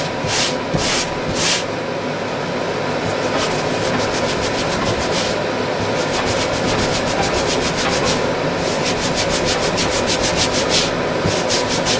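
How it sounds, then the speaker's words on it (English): A stubborn grease stain is scrubbed out of clothing fabric with Fast Orange, a loud, close, rapid back-and-forth brushing rasp that runs continuously with bursts of quicker strokes. "This is a stubborn stain, so I'm scrubbing it a little bit."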